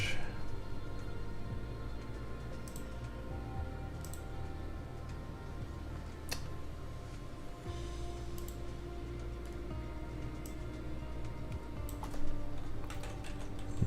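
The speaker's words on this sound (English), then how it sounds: "Let's type in" A computer keyboard is typed on in short, sparse bursts of faint clicks over a steady background hum.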